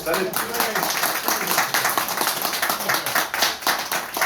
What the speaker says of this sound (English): Let's give Steve a round of applause as well